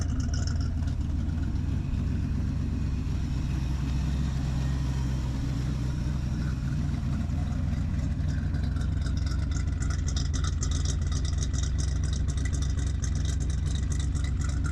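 A 1976 Ford Ranchero V8 idles steadily while it warms up, a low, continuous rumble close by with a slight uneven lope. No speech rides over the engine.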